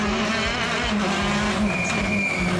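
Rally car pushing through the first special stage at Cabrières during the 2023 Rallye des Vins du Gard, its engine a steady loud roar with harmonic drone and shifting pitch, close and continuous throughout.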